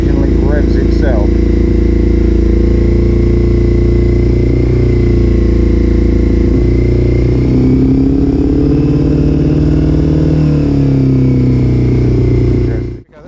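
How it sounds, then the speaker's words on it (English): A Honda CB400 Super Four motorcycle with upjetted carburetors idles steadily, a loud, close, even engine drone that shifts slightly in pitch midway and cuts off abruptly at the end. "That's a really quite healthy idle, I think."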